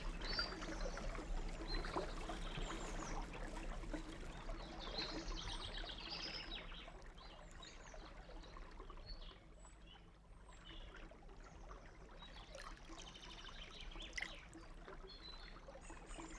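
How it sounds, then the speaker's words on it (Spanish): Steady, even rushing of the Río Salado flowing beneath a bridge on the Camino de Santiago, a continuous broad wash of water with no voices. "Está ahora cruzando el puente sobre el río Salado."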